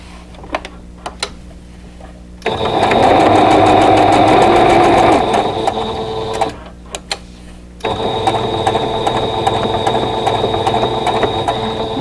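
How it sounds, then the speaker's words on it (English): A sewing machine stitches two quilt block units together for an arrowhead star block, running in two long steady bursts with a brief pause between them. Each burst is a close, loud, even whirr. "I'm going to watch that point as I sew these 2 units together"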